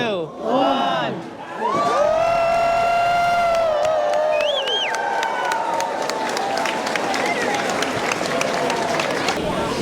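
A large crowd cheers at the grand opening of Sound Transit's 2 Line light rail on the Eastside, whooping and shouting with high voices after a brief countdown, then a dense, sustained roar of cheering and clapping.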